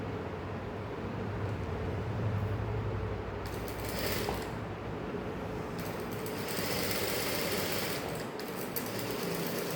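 A sewing machine stitches the shoulder seam of a saree blouse, running in steady bursts with short pauses between them over a constant low background hum.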